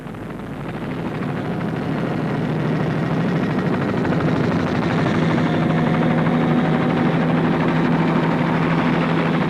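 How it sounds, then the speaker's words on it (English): Air rescue helicopter of the National Road Safety Council hovering near a 1985 Castrol International car rally, a steady loud rotor and engine roar that swells slightly and holds without a break. "In close attendance was the air rescue helicopter of the National Road Safety Council"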